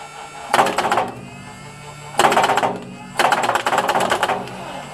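A modded Nerf Hyperfire blaster fires darts in three rapid bursts, each a dense, buzzing mechanical rattle lasting about a second, separated by brief quieter pauses, loud and close.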